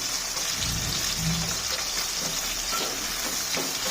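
Onions frying in oil with cardamom, cloves and cumin for a coriander chicken pulao, a loud, steady hissing sizzle with light stirring scrapes throughout.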